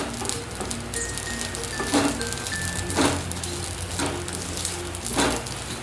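Poppy seeds dry-roasting in a pan for a chicken curry masala, a soft, steady crackle and sizzle with a few sharper pops, quiet and close.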